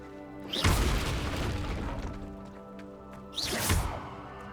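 A burst of Incendio fire igniting a stone pyre in the Hogwarts Legacy video game, with two loud whooshing flare-ups a few seconds apart and a steady roar of flames between them.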